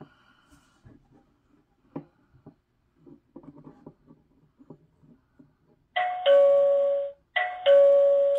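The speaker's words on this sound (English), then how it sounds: "maybe ring the doorbell." After a few soft taps and shuffles, a Philips EasyKey smart door viewer doorbell plays a loud two-tone chime twice in a row, close and clear.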